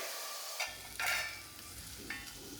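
Roasted-coconut chicken curry, a varutharacha style, being stirred and fried in a pan, with a steady sizzle broken by several scraping spoon strokes, close and fairly loud, and no talk.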